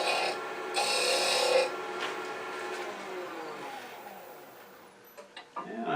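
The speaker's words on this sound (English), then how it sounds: "Anchor the tool, ride the bevel, lift the handle until it cuts." A hand carving tool scrapes and rasps into wood on a wooden bug pull toy, with steady rough strokes that fade and end in a few sharp knocks, no speech.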